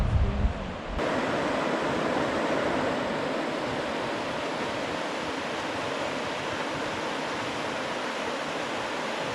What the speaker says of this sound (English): I could sleep to that noise all night, right? Yeah. The water rapids.